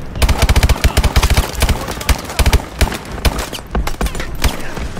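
Rapid bursts of gunfire in the shooter game Call of Duty: Advanced Warfare, loud and close, with clustered shots and brief gaps over a busy battle background.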